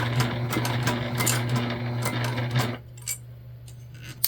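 A Juki sewing machine stitches through vinyl for a structured bag, a steady close motor whir with rapid needle ticks that stops abruptly near the end, leaving near silence with a few faint clicks.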